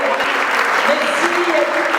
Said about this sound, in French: Je voudrais qu'on applaudisse aussi, c'est un des plus grands photographes du Congo.